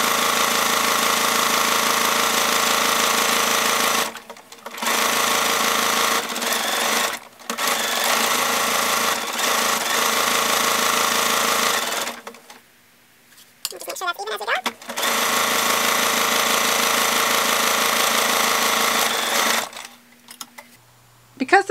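A sewing machine stitches the fabric cover of a rice-filled heating pack, running in long steady bursts of fast mechanical whirring. Short pauses and brief handling noises fall between the runs.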